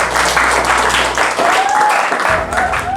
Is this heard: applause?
yes